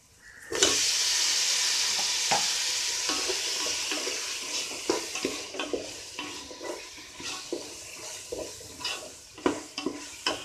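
Tomatoes are added to a hot frying pan for chicken biryani and set off a loud, bright sizzle that slowly fades. Scraping and clinking from stirring follow, getting busier toward the end, with no speech.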